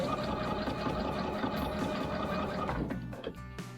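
A sewing machine stitching cotton fabric for a two-tone snack bag, running as a fast, steady mechanical whir that slows and stops near the end with a few final clicks.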